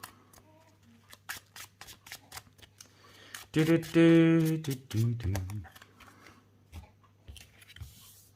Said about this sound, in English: Now we shuffle again, of course.